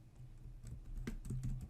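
Typing on a computer keyboard while entering a command to install VirtualBox guest additions on Oracle Linux 8.4; a quick run of close, light key clicks with a low hum underneath, no voices.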